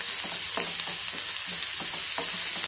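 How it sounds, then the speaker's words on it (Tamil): Cashews, ginger and garlic fry in oil with onions for a matar paneer masala, a loud steady sizzle broken by regular stirring strokes against the pan. "இதில் எடுத்து வச்சுருந்த முந்திரி பருப்பு, இஞ்சி, பூண்டு எல்லாத்தையும் சேர்த்துக்கிறேன்."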